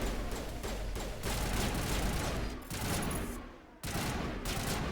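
Sniper and other gunfire in the video game Mass Effect, a dense, loud burst of shots with brief lulls between volleys and no clear talking over it.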